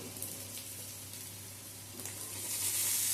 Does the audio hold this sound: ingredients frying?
yes